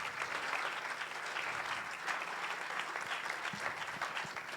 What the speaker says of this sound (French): On peut les applaudir, on peut.